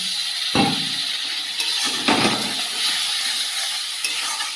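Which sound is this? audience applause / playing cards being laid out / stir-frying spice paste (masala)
stir-frying spice paste (masala)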